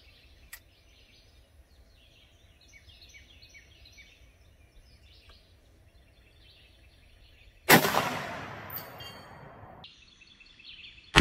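A single .44 Magnum gunshot goes off outdoors: a sudden loud crack with a rumbling tail lasting about two seconds, set against a quiet background of birdsong and a faint insect hum.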